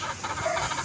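A white kelso chicken clucks softly in a brief, close burst in a backyard breeding pen.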